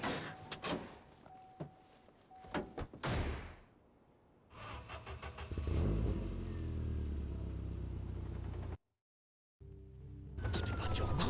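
Car driving in the Watch Dogs video game: a door clunks, then an engine revs and accelerates loudly, cut by a brief silence before the engine returns.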